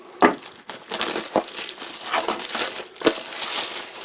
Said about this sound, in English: nice easy open polythene outer